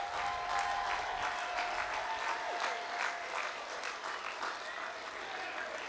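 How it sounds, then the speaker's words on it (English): A large outdoor crowd at the Durham Miners' Gala rally keeps up sustained applause, dense and fairly distant, with a few whoops and cheers rising through it. "let him hear your applaud and support."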